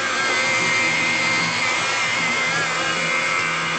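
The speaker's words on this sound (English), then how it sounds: "We're running at about 600 RPMs here." A buffing wheel runs at about 600 RPM with rubbing compound on the clear coat of a Camaro. It gives a steady, loud, continuous whirring drone close by with no pauses.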